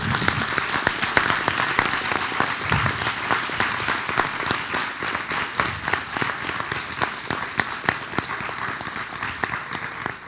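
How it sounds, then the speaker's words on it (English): Sustained audience applause at an evening school board meeting honoring school principals, dense steady clapping from a crowd filling the room for about ten seconds with no talk over it. "let's give our school principals a round of applause"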